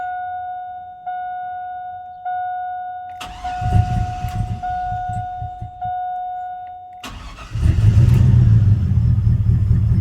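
A Chevrolet Silverado engine cranks and catches after its fuel lines are replaced, with a steady tone running beforehand; it fires near and loud around three seconds, stumbles back to idle, then a second start settles into a louder, rough idle.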